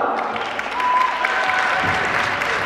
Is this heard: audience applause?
yes